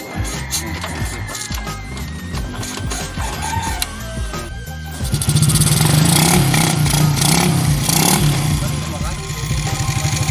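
A Honda XRM 125 motorcycle fitted with a Rusi Flair carburetor idles with ticking mechanical noise, then its engine revs up loudly and steadily. A person speaks over it and a rooster is faintly audible.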